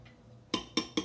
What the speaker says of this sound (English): So now I'm going to crack an egg,